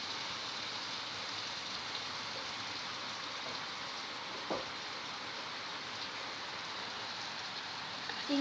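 Shrimp frying in mustard oil with black cumin, a steady faint hiss and crackle throughout, with one brief clink.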